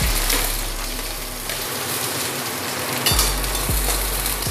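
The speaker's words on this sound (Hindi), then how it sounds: "तेल हमारा गरम हो चुका है, अब सबसे पहले डालूंगी अदरक लहसुन।" Ginger and garlic dropped into hot oil for a chicken curry, a loud continuous sizzle and crackle with a low hum underneath, no voices.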